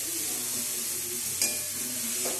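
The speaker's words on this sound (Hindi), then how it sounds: "हमें मिक्स कर लेना है घी में" Grated carrots stir-fried in ghee over a medium flame for carrot halwa, giving a steady soft sizzle with a faint scrape of the spoon partway through; no one speaks.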